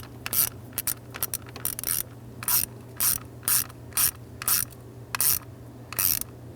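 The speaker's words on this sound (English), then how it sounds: "I'm going to go ahead and pop my ratchet back on there" A ratchet tightens the ignition switch bolt on a 1994-2004 Ford Mustang, giving about a dozen short, sharp bursts of clicking in an even rhythm, close and clear with no talk.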